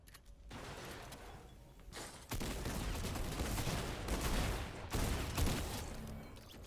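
Rapid bursts of gunfire in the battle royale game Fortnite, loud and dense, with a brief pause near the two-second mark before the firing resumes and continues to the end.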